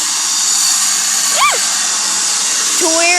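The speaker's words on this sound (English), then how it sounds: "He's sharpening this knife to where" A very large knife is sharpened on a power grinder, giving a loud, continuous high-pitched whine and hiss close by, with brief voices breaking in.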